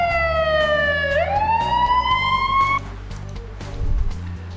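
An emergency vehicle siren in the Emergency 4 Barcelona mod video game wails loudly with a pitch sweep, then cuts off, leaving low engine rumble and clicks.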